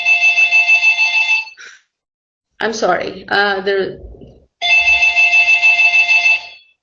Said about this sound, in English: can you please pick up the phone?